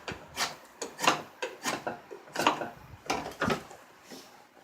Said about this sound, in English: with the draw knife. Taking a little bit, more controlled shavings